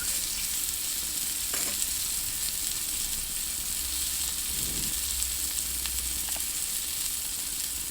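A whole pomfret, coated in batter and seasoned with ginger and garlic, fries in hot oil with a loud, constant crackling sizzle and a few faint clinks, with no voices.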